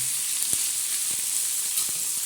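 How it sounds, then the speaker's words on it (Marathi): Tomato and onion sizzle on a hot tawa in a constant bright hiss, close up, with a few soft knocks of a spatula breaking through. "त्याच्यानंतर टाकणार आहे आपण टमाटा आणि कांदा चांगलं लालसर होऊन द्यायचं"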